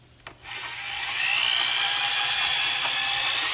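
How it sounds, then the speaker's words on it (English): A power drill with a stainless steel mixing paddle stirs sealant at the bottom of a bucket, spinning up after a brief knock and then running as a steady, loud, continuous whir. "now take your drill and then all the way to the bottom and go to the right in a clockwise fashion"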